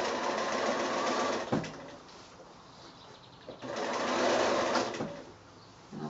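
A sewing machine stitching around the edge of a small quilted drawstring bag made from 6-inch squares, close bursts of steady whirring with short pauses between runs.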